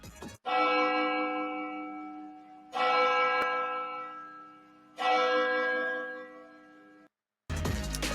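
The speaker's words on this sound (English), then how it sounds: "Let's drop the church bell for the life that was lost in this situation." A church bell tolls three times, each strike ringing out loudly and fading slowly, followed by a short silence and a different noise.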